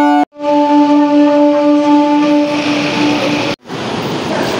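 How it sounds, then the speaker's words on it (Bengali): A train rumbles across overhead at Deoghar railway station, a loud, steady roar with humming tones that holds for several seconds and then cuts off abruptly. "এই যে উপর দিয়ে ট্রেনটা যাচ্ছে"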